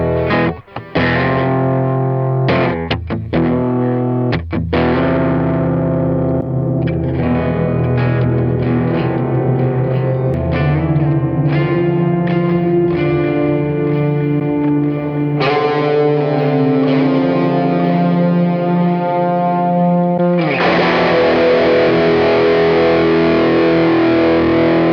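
Electric guitar played through a Valeton GP-5 multi-effects unit with delay and reverb, a distorted tone ringing out in sustained chords and picked notes, loud and continuous, with a fuller chord swelling near the end.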